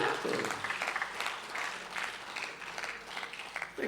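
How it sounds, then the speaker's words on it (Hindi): An audience at a live Shrimad Bhagavat Katha religious discourse in Raipur, Chhattisgarh claps in a sustained, even round of applause throughout, moderately loud and filling the hall. "ताली बजा लो, डर क्यों हो रहे हो?"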